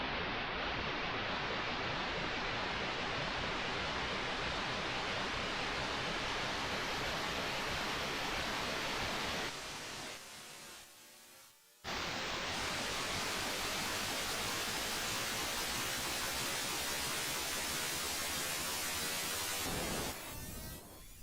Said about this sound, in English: This thing is really fantastic for just making all kinds of weird noise sounds.